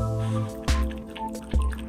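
Dogs lapping water from a fish bowl that holds live fish: close, wet slurping drips with two distinct splashy laps over a steady background hum.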